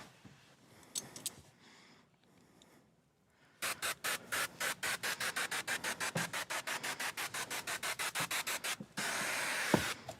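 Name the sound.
wiping a van windshield with towel and rubbing alcohol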